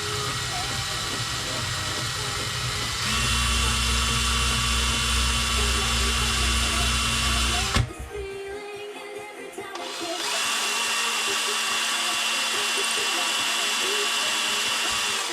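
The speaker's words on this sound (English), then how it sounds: "All you've got to do is pull the trigger and apply a very small amount of pressure, and it will drill through." A power drill runs loudly and continuously while boring through material during an AAP Loki and Stealth installation, with a rise in pitch partway through, a brief stop, then a restart at steady speed.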